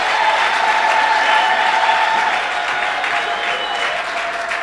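A church congregation applauds its pastor with steady, dense clapping that fills the hall, holding at full strength before easing off slightly toward the end.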